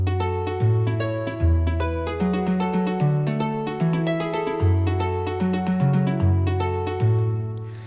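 A harp plays a pirate-style chord progression in a chill, cave-like mood, with plucked bass notes and upper arpeggios ringing out steadily, prominent and alone.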